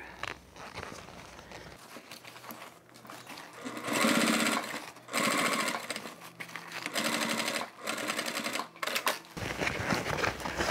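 A sewing machine stitches the last small section of a Suzi toiletry bag in several rapid, steady bursts separated by short pauses, close and clear with no talking.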